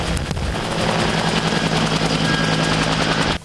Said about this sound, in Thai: นักบินสามารถนำเฮลิคอปเตอร์ลงจอดได้อย่างปลอดภัย